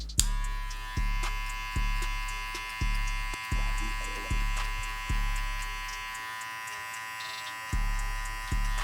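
Electric hair clippers buzz steadily while cutting a burst fade, the corner of the blade working in short repeated passes, with a pulsing rhythm of strokes roughly every second, close and continuous.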